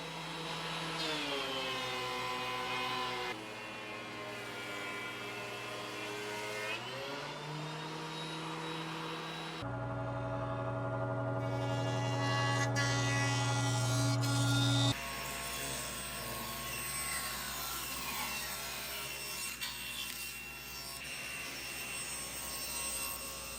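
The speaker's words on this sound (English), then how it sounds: "So I'll run all these boards through the thickness planer, including this board" A thickness planer runs reclaimed white oak boards through its knives, a loud, steady machine roar that lasts throughout, with its pitch and tone shifting each time a new board feeds in.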